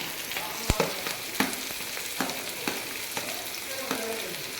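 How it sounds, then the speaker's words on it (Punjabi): Finely chopped medium onions sizzle steadily in a hot pan, with a sharp clank near the start and several softer scraping stirs spaced through, close and alone with no talk. "ਹੁਣ ਆਪਾਂ ਇਹਨੂੰ ਹਿਲਾ ਦਿੰਦੇ ਨਾਲ ਦੀ ਨਾਲ ਆਪਾਂ ਪਾ ਦੇਣੇ ਪਿਆਜ਼"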